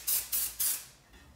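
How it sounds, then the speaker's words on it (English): Hairspray misted onto hair in three quick, close bursts, each a sharp airy hiss with short pauses between, followed by a fading softer trace. "So we'll just spray it on our hair"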